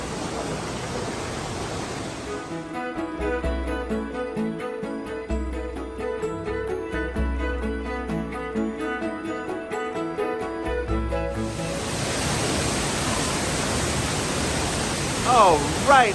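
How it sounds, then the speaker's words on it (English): Rushing water of Pam Bok Waterfall, a close, constant broadband roar at the start and end, with music covering it through the middle stretch. "I love waterfalls. I'm here at the Pambuk Waterfall."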